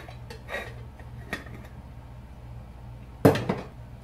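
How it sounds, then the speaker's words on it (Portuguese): A cooled Italian moka coffee pot being opened, with a few soft metallic clinks and scrapes, then a sharper metal clank and rattle near the end, close by in a quiet kitchen. "Aí nós vamos abrir a cafeteira."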